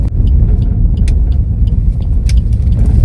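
A car drives along a road near Dharamshala Cantt with a loud, steady low rumble of engine and tyres. Faint rattles and clicks from inside the cabin come through now and then.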